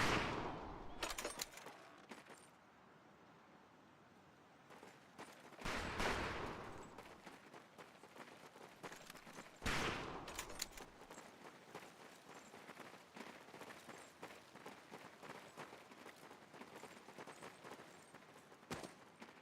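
Rifle fire cracks across a shooting range in Medal of Honor: Pacific Assault, several loud, sharp shots spaced seconds apart with a few quicker pops between them, ringing out over a steady background of ambience.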